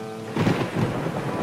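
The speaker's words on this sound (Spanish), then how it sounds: "Vino más rápido el trueno, tardó 3 segundos." Close thunder from an approaching storm in a children's program: a loud, sudden crack swells into a heavy rolling rumble that fills most of the moment and sustains to the end, with no voices over it.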